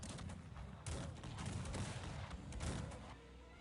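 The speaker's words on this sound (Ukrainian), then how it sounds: "Тут хтось стріляє в нас." Gunfire in the strategy video game Cossacks 3, a few sharp bursts of shots layered over continuous battle noise, moderately loud with no talk.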